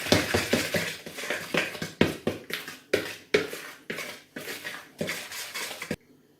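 Carrot muffin dry ingredients, including cinnamon and baking powder, are stirred quickly in a bowl, giving a steady run of close, rhythmic scraping and clinking strokes that stops sharply near the end.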